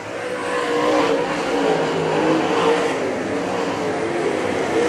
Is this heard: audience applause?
no